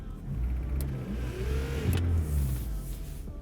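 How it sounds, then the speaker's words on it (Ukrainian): A VAZ 21099 car engine idling and being given a little more throttle: a close, steady rumbling idle that swells briefly into a gentle rev and settles again. "Ми завели. І тепер просто даємо чуть-чуть більше газу."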